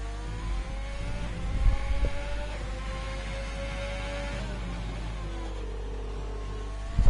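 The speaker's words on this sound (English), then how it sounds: "you can listen to the car and listen to how Eugene takes the rest of his lap" An on-board race car engine from an esports racing video game lap at the Russian GP, a loud, sustained engine tone that rises and falls as it revs through the gears and shifts, with no talk over it.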